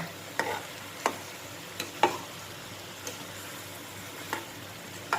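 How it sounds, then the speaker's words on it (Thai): Spaced scraping clicks of a utensil stirring an eggplant and pork stir-fry in a wok over a faint sizzle, about one stroke every second. "คนจ้ะ"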